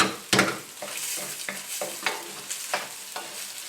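Tomatoes and carrots are stir-fried with rice in a hot pan: a sharp opening clatter, then a bright steady sizzle with regular rhythmic scraping strokes of the spatula, close and without voices.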